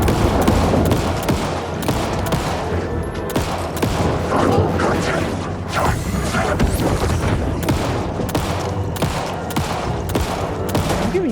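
Dense, nonstop gunfire from the video game Alan Wake 2: rapid overlapping shots and heavy booms pile up loudly for the whole stretch, with no pause in the shooting.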